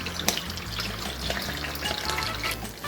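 Shrimp marinade poured into a hot pan crackles into a loud, steady sizzle that holds for about three seconds, with no voices.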